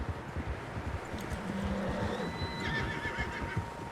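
A horse whinnies in a high, wavering call among the muffled clip-clop of hooves in Red Dead Redemption 2, moderately distant, with no speech.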